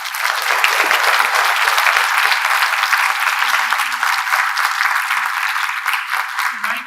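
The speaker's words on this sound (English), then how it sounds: "please give an ovation to all of us over here" A conference room audience at a value investing conference applauds steadily, dense and sustained clapping from start to finish with no break.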